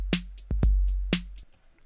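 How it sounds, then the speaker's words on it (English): 808 Core Kit drum kit in Ableton Live playing a short beat pattern: booming deep kick hits alternating with crisp snare and clap hits and ticking hats, about eight punchy strikes over two seconds, clean with no talk. "I think the one included in Ableton Lite is the one called 808 Core Kit."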